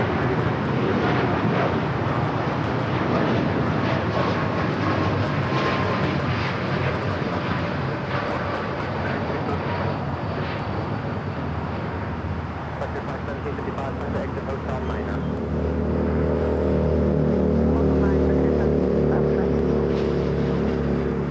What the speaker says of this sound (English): That Delta 757 is rolling.